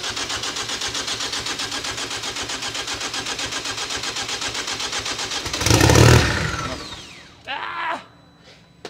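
A new engine in a Vuhl car cranks with a long rapid rhythmic churning, then catches and roars briefly before dropping away, followed by a short second rev; voices come in near the end.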